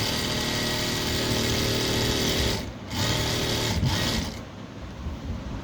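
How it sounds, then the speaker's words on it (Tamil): A sewing machine runs loud and close while stitching a blouse sleeve, a continuous rapid mechanical whir that briefly pauses twice before resuming more softly. "கையும் அதே மாதிரி தைச்சிட்டோம்"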